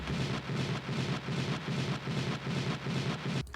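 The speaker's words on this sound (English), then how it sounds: "find a low percussion or a top rumble" A low percussion loop for a schranz track, a dense top rumble sitting just above the sub rumble, pulsing steadily and loudly in a fast repeating rhythm before cutting off near the end.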